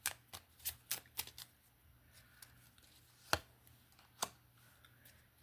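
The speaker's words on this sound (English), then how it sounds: "Let's grab a couple of these cards" A deck of playing cards is handled and shuffled, giving crisp riffling snaps and light papery taps. The taps come in an uneven scatter, close and distinct, with quiet pauses between them and no talking.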